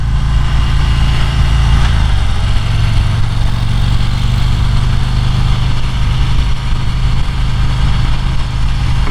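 A 2023 Harley-Davidson CVO Road Glide Limited 120th Anniversary cruises steadily on cruise control. Its engine gives a loud, constant low drone with wind noise and no speech.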